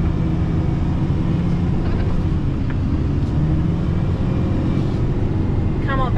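A car grinds through thick beach sand with all four wheels turning, its engine a steady broadband roar that stays loud and constant throughout, while people talk tensely over it.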